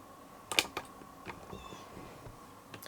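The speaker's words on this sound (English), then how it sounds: "I'm just filming with the cat on my lap now." A cat sitting on a person's lap gives a short close meow, followed by faint soft rustles and taps in a quiet room.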